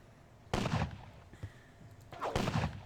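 Musket fire from skirmishers in a Battle of Dennewitz strategy game: two sharp, loud crackling volleys about two seconds apart, with a faint single shot between them and quiet battlefield ambience underneath.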